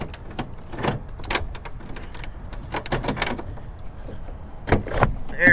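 The trunk of a car that has sat unused for a long while, bought at a Copart salvage auction, is opened with a close series of sharp clicks, latch knocks and rattling thumps.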